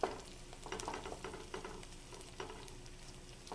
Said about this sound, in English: The smell of onion frying is becoming so nice right now.